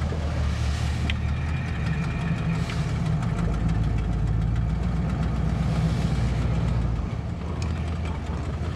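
A 1967 Buick engine idles steadily after a cold start at 27°F, a loud, close, even rumble with a faint rhythmic knock running throughout, no talking.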